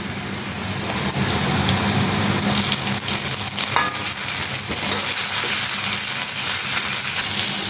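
Chopped chillies go into onions already fried light red in a pan, setting off a loud, constant sizzle with occasional stirring scrapes that runs unbroken to the end.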